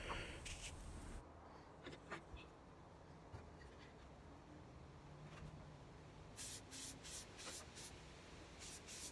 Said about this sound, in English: I'm just using a clear spray paint that's waterproof